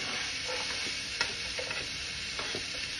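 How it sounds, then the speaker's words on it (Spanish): Chopped onion sizzling and frying in oil in a very hot pan, a steady crackling hiss with occasional stirring clicks and pops, close and continuous with no talking. "Miren la cebolla, ok, se está friendo ahorita. El sartén súper caliente."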